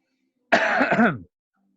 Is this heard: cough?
yes